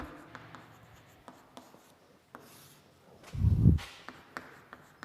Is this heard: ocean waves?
no